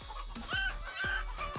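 Chickens clucking in a short sound effect, three or four sharp rising-falling squawks in quick succession, close and clear with no voices.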